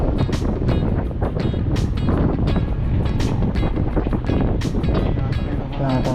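Wind gusts across a lakeshore fishing spot, a loud, steady, broadband rush buffeting the microphone throughout, with faint voices murmuring underneath.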